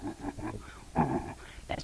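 A voice imitates a bear's warning growl, giving a few rough, breathy guttural bursts close to the microphone.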